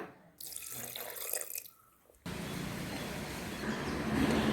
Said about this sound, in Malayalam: പിന്നെ നമുക്കിതിലേക്ക് 1 ഗ്ലാസ് വെള്ളം ചേർത്ത് കൊടുക്കാം